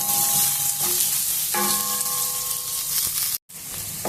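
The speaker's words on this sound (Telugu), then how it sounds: "కొంచెము కలర్ వచ్చేంత వరకు ఉల్లిగడ్డల్ని కూడా మగ్గించుకున్నాము" Onions sauté in a pan for capsicum rice, a continuous close frying hiss with occasional clinks of a stirring utensil and a brief dropout near the end.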